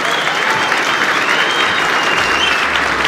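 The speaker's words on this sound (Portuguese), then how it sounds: "Dá uma salva de palmas pra essa mulher aqui." A dense, loud burst of clapping from a Portuguese-speaking audience at a live show, welcoming a woman, sustained and even.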